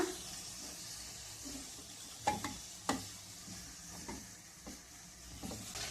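Tomato and onion puree being stirred in a pan for dal makhani: soft scraping and wet sizzling, with a few sharper clinks of the spoon against the pan, close by and fairly quiet.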